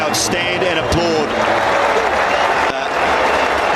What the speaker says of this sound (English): we'll just let this crowd stand and applaud